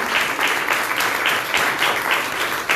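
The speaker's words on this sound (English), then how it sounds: "Can we have a loud applause for them?" An audience at the Freedom Fighter Berta Menezes Braganca Memorial Awards in Goa gives loud, continuous applause, many hands clapping in a thick, even roar with slight pulsing.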